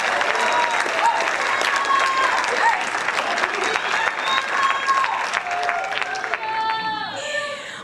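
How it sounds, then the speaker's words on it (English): A school band concert audience applauds the trumpet section, loud sustained clapping with some cheering and murmured voices, easing off near the end as chatter shows through. "Give the trumpets a round of applause, please."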